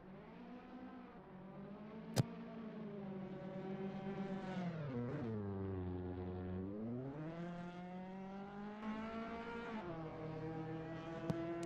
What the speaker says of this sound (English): So hopefully you get to hear these fantastic little twin cams revving their way across the Silverstone